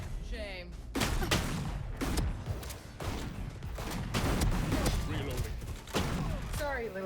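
Gunfire in a video game rattles through rapid volleys of close, punchy shots and thuds, with game sound effects and a voice talking over parts of it.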